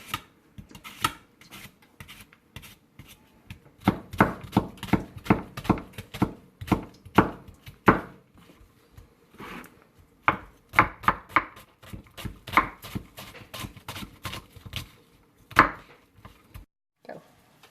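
An onion being chopped with a knife on a board, a long run of quick sharp knocks in uneven bursts with short pauses between, close and crisp with no talk.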